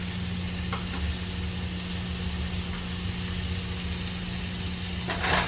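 Small, thin-cut steak sizzling in a frying pan, a steady close crackle with a low background hum, a brief louder flare of sizzle near the end.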